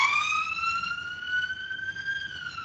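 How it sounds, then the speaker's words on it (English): A passing ambulance siren wails in a steady, slowly rising tone, clear and moderately loud against a quiet background, with no talking. "I'll just wait for the ambulance to go past."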